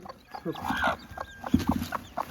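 A heavy free-range hen clucks in short, broken bursts close by, with scattered soft calls and a voice speaking nearby.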